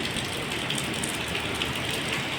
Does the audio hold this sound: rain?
yes